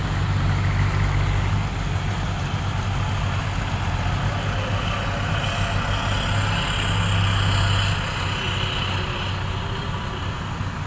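A procession of modified pickup trucks at a temple merit-making parade in Buriram, Thailand, produces a steady, loud, low engine rumble with idling drone throughout, easing slightly near the end.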